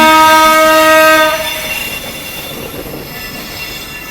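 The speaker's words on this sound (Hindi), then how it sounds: "सामने अराइव कर रही है दोस्तों बरेली इंटरसिटी एक्सप्रेस" A loud, sustained train horn blares up close as the Bareilly Intercity Express arrives at a station, then gives way to the rumbling and clatter of the train rolling past.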